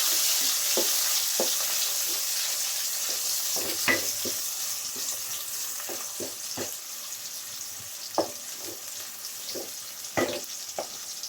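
Onions sizzle in a pan for a chicken and potato curry while a spoon stirs, producing a constant frying hiss broken by scattered scraping and knocking strokes, with no talking.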